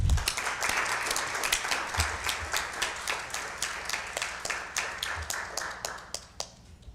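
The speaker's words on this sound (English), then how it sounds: "So let's go ahead and give them a round of applause." Audience applause at a public school board meeting honoring retiring educators, a dense, steady burst of many hands clapping that gradually thins into scattered individual claps toward the end, with no speech over it.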